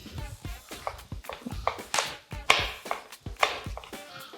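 Old El Paso jalapeno slices being chopped with a knife on a board: a quick run of about a dozen close, sharp, irregular taps.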